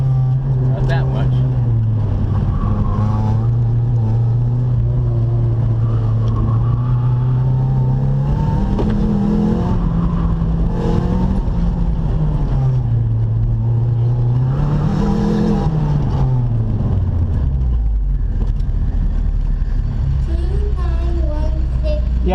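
Mitsubishi Evo car driving a slalom course, the engine droning steadily close up with its pitch rising and falling through braking and clutching, while a voice talks over it.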